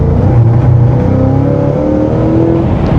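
A modified 835-horsepower Cadillac CT5-V Blackwing accelerating on a race track, its engine droning loud and close with rising harmonic tones as revs climb steadily, heard from inside the car with no talking.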